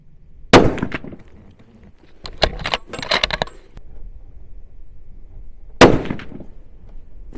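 Bolt-action rifle shots at an outdoor range, comparing a Fierce CT Rival and a Howa Carbon Elevate: two sharp, loud cracks several seconds apart, with a cluster of clanks and rattles between them, no talking.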